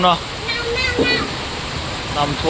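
Floodwater rushes across a road after under half an hour of heavy rain, a loud, continuous broadband roar close by, with a voice speaking over it.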